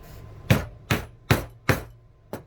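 A rivet cap is set on a handmade bag with five sharp, close hammer strikes, spaced evenly at about two per second, with the last blow lighter and no talk between them.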